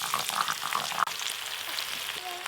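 Cut potatoes and bottle gourd greens fry in a hot pan, a steady close-up sizzle with some crackle and a brief stir, no voices.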